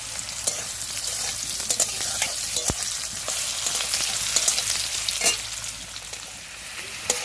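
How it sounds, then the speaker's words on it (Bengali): Steamed radish pieces frying in a pot, a continuous close sizzle broken by sharp clicks and scrapes of stirring, with a few louder knocks scattered throughout and no voices. "মূলোগুলো একটু ভেজে দেবো।"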